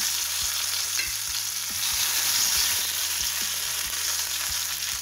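Mustard seeds, dried red chilies and curry leaves sizzle and crackle steadily in hot oil, a dense, close frying hiss with occasional pops and stirring.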